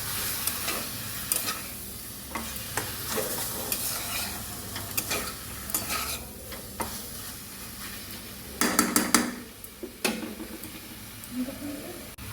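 Chicken and boiled potatoes stirred and frying together in a pan, a steady sizzle under scraping stir strokes with a few louder clatters of the utensil, close by.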